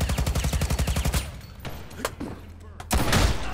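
Rapid automatic gunfire from Ghost in the Shell: First Assault Online, a fast burst of close, loud shots followed by scattered single shots and a heavy blast, with a faint voice underneath.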